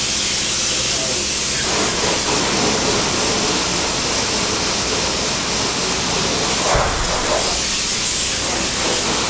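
Spray foam insulation being sprayed onto a wall, a dense continuous hiss that runs unbroken and loud from start to end, with a brief thump near the end.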